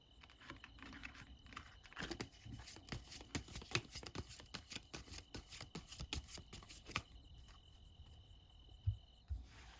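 Tarot cards are shuffled and drawn by hand, a quick run of close, crisp riffling flicks and soft slaps, with a faint steady high tone behind.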